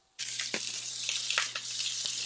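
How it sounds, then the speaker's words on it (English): Food for a creamy coconut chickpea curry drops into a hot frying pan and bursts into an abrupt, loud, continuous sizzle, with crackling surges and a low steady hum beneath. "Ooh, I love the sound of that sizzle."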